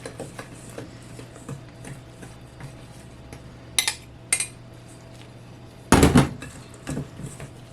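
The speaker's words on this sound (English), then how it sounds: "So I'm just gonna kind of mix this in" Wet ingredients with orange zest being mixed into a cranberry orange scone batter made with fresh milled flour in a bowl, soft stirring with scattered utensil knocks and a louder clatter of spoon against bowl, close and without talk.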